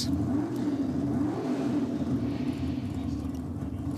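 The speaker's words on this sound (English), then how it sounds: "Catanzarati, let's see what he can do in the Firebird. 376 cubic inch Chev" A Pontiac Firebird drag car with a 376 cubic inch Chevy engine rumbles loudly at a drag racing event, a deep, sustained roar that swells slightly and stays constant, heard from close by.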